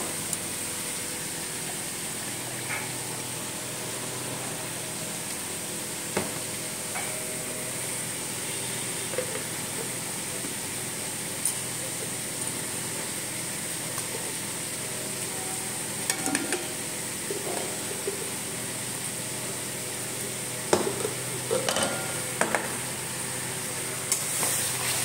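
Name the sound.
tomato paste frying and being stirred with spices in a pan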